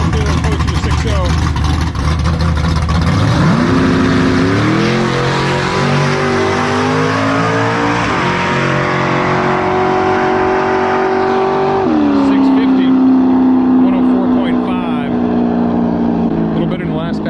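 Drag racing cars launch and accelerate hard down the strip, including a green nitrous Fox-body Mustang, a Chevy Nova and a Tesla Plaid: a loud, sustained engine roar that climbs in pitch through several gear shifts, with voices talking over it.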